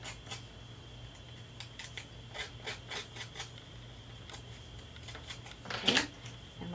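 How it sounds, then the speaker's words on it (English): Scissor blades scrape and rasp along paper edges in short, irregular scratchy strokes during a papercraft coffin box project, close and fairly quiet over a low steady hum, with one louder burst near the end. "I'm also going to take my scissors and go around the edges and kind of rough those up as well."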